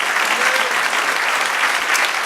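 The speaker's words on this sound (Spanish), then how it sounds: "Dale un aplauso al Señor, amén" Church congregation applauding during a Spanish-language evangelical service, a steady dense wash of clapping from many hands that holds loud and even throughout, with no distinct voice standing out.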